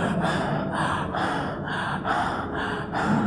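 A voice imitates the gasping breath of a dying person with a series of rhythmic, raspy, forced breaths, close and steady, repeating about every half second with no words spoken.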